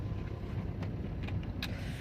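A car is driven and turned around, its interior filled with a steady, low engine and road rumble. A sharp click comes near the end, and no one speaks.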